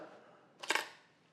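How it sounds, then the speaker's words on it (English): A Mamiya RB67 medium format camera's mirror flips up with a single sharp mechanical clack, close and distinct against near silence. "Then you pop the mirror."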